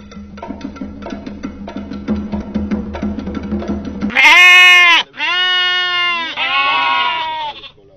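Sheep on a farm bleat loudly at close range, several long wavering calls one after another following a stretch of lower animal noise.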